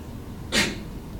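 A single short sneeze, fairly close and sharp, bursting out briefly over a quiet room background.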